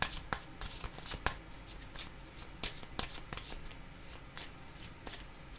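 Tarot cards being shuffled by hand, a soft papery riffling with repeated quick flicks and taps, close and fairly quiet, with no talking.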